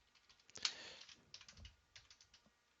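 Quiet typing on a computer keyboard, a cluster of close, light clicks and taps in an irregular rhythm, alone with no talk.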